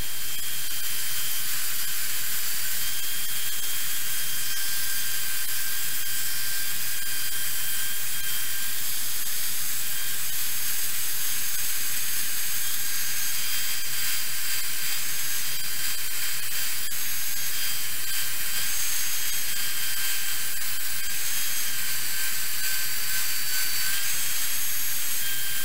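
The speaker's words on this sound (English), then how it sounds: "Dreaded chore, sanding." Belt sander grinding a metal bottle opener, a steady broadband hiss and whir with a high-pitched whine, running continuously and loud throughout.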